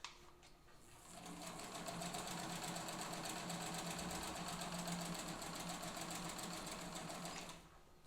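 A Singer 15 class sewing machine stitches through heavy denim in a steady, fast mechanical whir that starts after a second, holds an even rapid needle rhythm for about six seconds, then stops.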